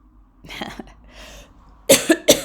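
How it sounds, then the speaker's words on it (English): Two or three harsh coughs ring out loudly and close by, following a few quiet breathy sounds. "Still got the cough a bit."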